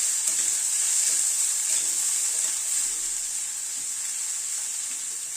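Chopped onions frying over a medium gas flame while being stirred, a steady close sizzle with a bright hiss that holds for the whole stretch, with no one talking.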